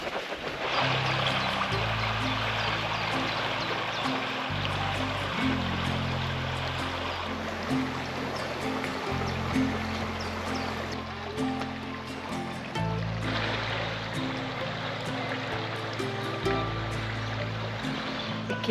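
A river stream flows steadily near Lake Dobbiaco, a continuous rushing wash of water heard close, with a low droning hum underneath throughout.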